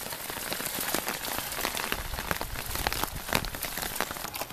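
Heavy rain pours down steadily, a dense, continuous patter of drops striking surfaces up close, loud and unbroken throughout.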